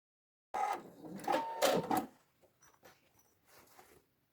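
A sewing machine stitches the finishing seam on a half-moon toiletry bag in a short, close, whirring run lasting about a second and a half, then fades into quieter handling noises.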